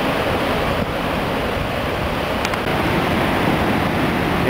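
The Upper Falls of the Yellowstone River in Yellowstone Canyon give a steady, loud, broadband roar of falling water, constant throughout with no voices.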